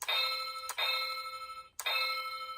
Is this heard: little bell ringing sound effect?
yes